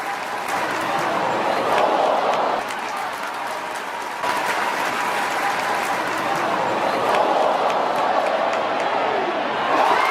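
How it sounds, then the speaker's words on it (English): A packed basketball arena crowd at a game against Nebraska cheers and applauds in a sustained, loud roar that swells and dips slightly, with a brief lull near the middle before rising again. "You hear the crowd."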